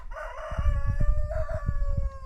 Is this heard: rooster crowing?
yes